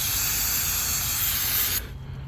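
Aerosol can of brake cleaner sprayed onto an oily engine of a 2013 Chevrolet Cruze, a loud continuous close hiss lasting nearly two seconds before cutting off abruptly.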